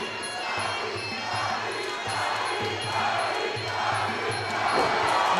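An MMA fight crowd chanting the fighter name Dawid for Polish fighter Dawid Zimnicki, a rhythmic roar of many voices from a packed arena under a commentator's talk.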